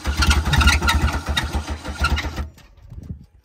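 A Ford engine cranks in a quick, rough, pulsing rhythm for about two and a half seconds, loud and close, then cuts off, leaving faint residual noise.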